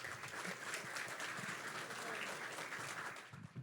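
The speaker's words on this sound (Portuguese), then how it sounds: "uma salva de palmas, Antônio Viola!" An audience at the Prêmio Sindirepa-SP awards ceremony in São Paulo applauds an opening speaker, an even, sustained patter of many hands heard from a distance and fairly soft, with a faint voice briefly underneath.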